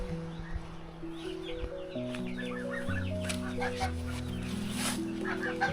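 Turkeys and chicks on a Lithuanian farm, with soft clucking and peeping calls scattered throughout, close and fairly quiet beneath a steady background.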